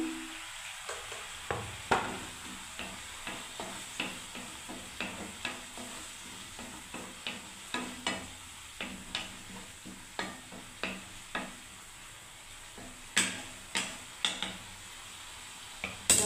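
Masala with turmeric, red chilli powder and cumin powder being stir-fried in a pan: a quiet, low sizzle under a steady series of spatula scrapes and taps against the metal, repeating every second or so, with no one speaking.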